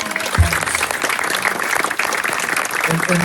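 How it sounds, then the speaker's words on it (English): Audience applause breaks out at an outdoor bill-signing ceremony at a New Hampshire state park, a steady, dense clatter of clapping held at an even loudness throughout, with a brief low thump near the start. "How about a round of applause for Ned Quigley"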